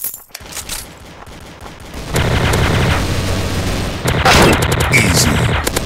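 A TMP submachine gun fires in a multiplayer shooter video game, with quick clusters of rapid shots after a short quiet start and louder bursts near the end over game background noise.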